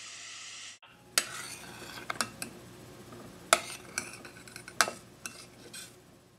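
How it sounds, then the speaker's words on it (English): Unsalted butter sticks melt in a thick-bottomed saucepan with a soft, low sizzle, broken by several sharp metallic clicks and taps of a utensil against the pan. "Take the unsalted butter sticks into a thick bottom saucepan."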